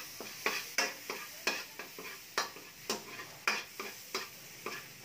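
Sautéing until light brown, with a close, steady sizzle cut by a regular series of sharp ticks or scrapes roughly twice a second, with no talk.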